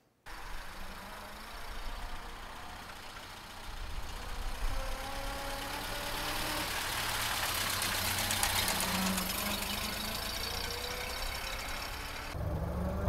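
A 1929 Ford Model A engine runs steadily at a moderate, even pitch, its rough mechanical drone growing louder after a few seconds and holding close and continuous with no voices.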